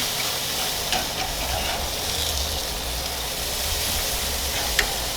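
A pork loin sizzling after being flipped on a Masterbuilt Gravity Series 560 grill, a steady close frying hiss with a few soft clicks and bumps throughout.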